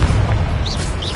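A Confringo blasting spell explodes in Hogwarts Legacy as a short, dense boom that fills the whole clip, with a couple of faint whooshing sparkles riding on top.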